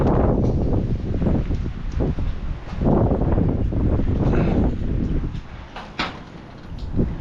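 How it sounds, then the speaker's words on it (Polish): Strong, freezing cold wind buffets the microphone outdoors in loud, rumbling gusts that rise and fall, with faint rustling in the background. "Ale wieje. Taki mroźny wiatr."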